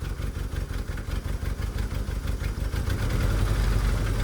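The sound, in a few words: VW Kombi engine running on only three cylinders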